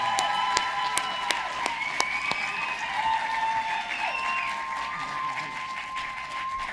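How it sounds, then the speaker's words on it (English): Audience applause and cheering at the 2016 Blackboard Awards ceremony for principals and schools: dense, sustained clapping with scattered whoops and shouts rising above it, loud and continuous throughout. "You're just cheering because I'm the last one."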